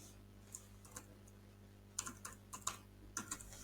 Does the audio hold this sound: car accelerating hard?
no